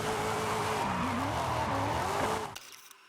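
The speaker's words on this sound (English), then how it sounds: "Let's give it a good drift." A car drifts in Forza Horizon 5, its tires squealing in a long, steady, wavering screech over a loud engine roar that cuts off abruptly near the end.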